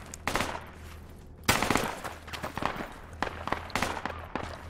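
Gunfire from the military video game Project Reality crackles in loud, dense bursts, with a heavy volley around the midpoint and scattered overlapping shots throughout, close and sustained with no voices.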